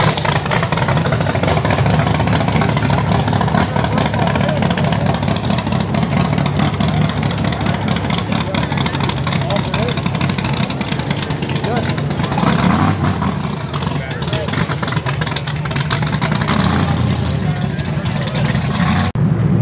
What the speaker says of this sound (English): These are the pro stock cars